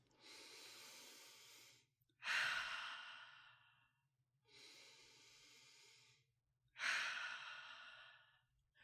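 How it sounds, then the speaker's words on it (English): Slow deep breathing, air drawn in through the nose then let out through the mouth in sighing exhales, two full cycles, close and quiet with silent pauses between. "Take a deep breath in through your nose and out through your mouth. Repeat, taking 2 more deep breaths in and out."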